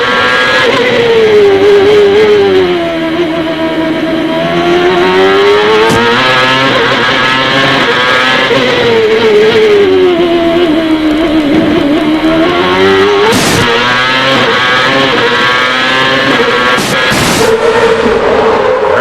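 A race car engine at Long Beach in 2002, heard from the driver's seat, screaming loudly and continuously as it revs up and down through gear shifts, with pitch rising and dropping between shifts.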